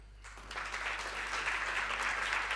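An audience at a formal memorial lecture breaks into applause, a steady wash of many hands clapping that swells and stays sustained, heard at a moderate distance over a low electrical hum.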